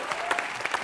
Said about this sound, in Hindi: तो एक बार पूरी टीम के लिए जोरदार तालियां हो जाए.